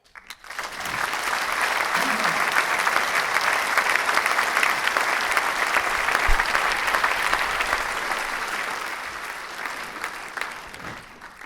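Steady applause at a further education awards ceremony, many hands clapping in a dense continuous wash that holds for about ten seconds before tapering off at the end.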